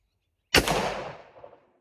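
A single sharp gunshot from a .45 Colt handload, a sudden loud crack followed by a rolling, decaying echo that fades out after about a second.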